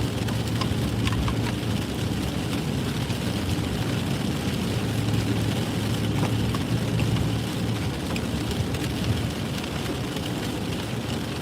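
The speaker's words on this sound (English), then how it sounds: "Goddamn rain" Steady rain pours down in a dense, continuous hiss with a low rumbling undertone, constant and unbroken throughout.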